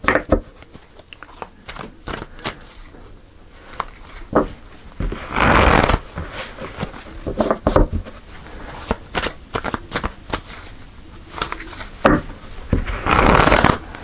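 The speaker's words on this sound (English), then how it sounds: "So I'm going to pull three cards." Tarot cards being shuffled by hand, a long run of close, crisp riffling and flapping bursts in irregular rhythm, with louder cascades every few seconds and no talking.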